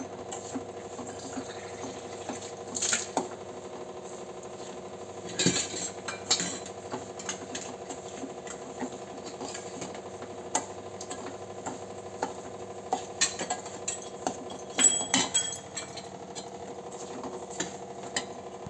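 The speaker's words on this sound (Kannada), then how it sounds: "ರವೆ ಕೆಂಪಿಗೆ ಹುರಿಬೇಕು" Semolina roasting dry in a pan for avarekayi uppittu, stirred with a spoon that gives light scattered clinks and scrapes against the metal over a quiet kitchen background.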